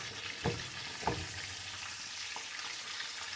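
Chicken frying in a pan for fried chicken, a steady broadband sizzle running throughout with a couple of sharper crackling pops near the start, close and moderately loud, no talking.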